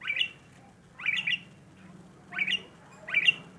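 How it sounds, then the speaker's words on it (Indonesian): A Javan pied starling gives four sharp, bright squawking calls in two pairs, close and loud, with short quiet gaps between. "begitu dahsyat dan lincah suara kecil teriakan sang Jalak Suren"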